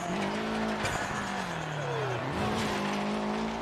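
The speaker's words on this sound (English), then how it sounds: "And now it's John Lawrence Bernardo in the Repsol liveried Lancia Integrale." Repsol-liveried Lancia Integrale rally car in a sim racing game, its engine droning loud and steady with rising and falling revs through gear changes on a Poland rally stage, faint tire noise underneath.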